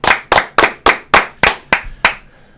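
A rapid run of sharp, close hand claps, about eight evenly spaced slaps in quick succession, loud and dry with nothing else around them.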